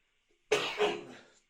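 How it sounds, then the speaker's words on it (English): A single close, sharp cough with a brief second burst, otherwise quiet. "don't worry, no COVID, just a cough"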